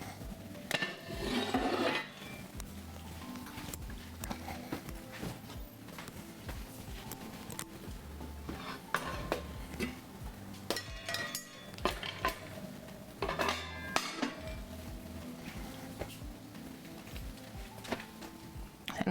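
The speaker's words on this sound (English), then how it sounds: "I'm gonna move this cast iron out of the way too, because they're cooled off" Heavy cast iron pans clank and scrape intermittently as they are shifted around a home kitchen stovetop. The knocks are soft to moderate against a low room background, with no one talking.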